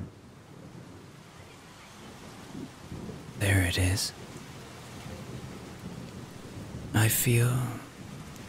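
Rain patters steadily outside a window while thunder rumbles in two low, booming rolls, and a voice speaks softly over it.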